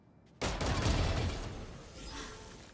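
A single sharp gunshot in the video game Valorant, a sudden loud crack with a lingering, slowly fading reverberant tail.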